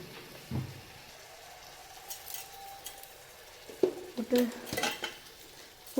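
Tomatoes sautéing in a pan with onions and salt for a South Indian dish, heard as quiet frying beneath clinks and scrapes of a utensil against the pan, louder in a few bursts near the end.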